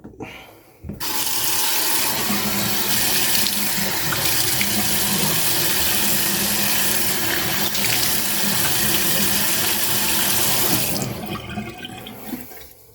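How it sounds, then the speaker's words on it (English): Tap water runs steadily and loudly into a sink for about ten seconds as a face is rinsed after shaving, starting and stopping abruptly with no talk. "Let me rinse this face off and we'll see what we got going with here."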